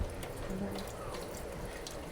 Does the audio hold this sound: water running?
yes